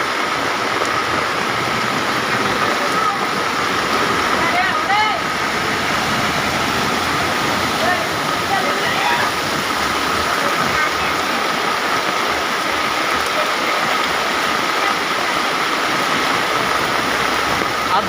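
Floodwater surges through the streets of Dharampur town after two hours of heavy rain, a loud continuous rushing roar mixed with passing vehicle engines, as someone talks throughout.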